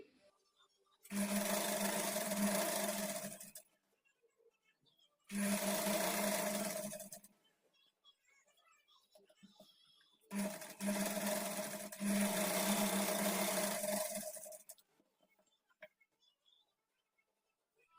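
A sewing machine runs along the folded edge of a kurti in three sustained bursts of humming stitching, each a couple of seconds long with near-silent gaps between, close and clear.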